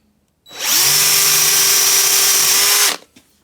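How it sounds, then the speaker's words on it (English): A power drill fitted with a 4mm bit bores an M4 clearance hole for a Myford Super 7 lathe control box, a single loud, steady high whine of about two and a half seconds that starts abruptly and stops sharply, followed by brief faint clatter. "I have a 4mm drill bit. Let's stick some holes in it, shall we?"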